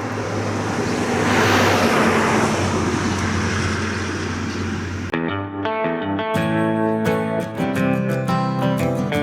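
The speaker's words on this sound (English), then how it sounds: "Car coming." A car approaching along a road outdoors, a loud broadband engine and tyre roar that builds and swells before a sharp change into tonal, distorted sound, with no talking.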